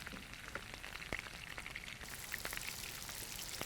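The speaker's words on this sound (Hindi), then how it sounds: "लहसुन की खुशबू बटर में भुंजने की बात ही कुछ और है कि नहीं?" Garlic frying in butter and a little oil in a pan, giving a faint, steady sizzle with scattered crackles and pops close by.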